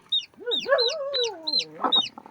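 A paralysed chicken clucks close by in short bursts, with other birds chirping and cheeping over it in the background.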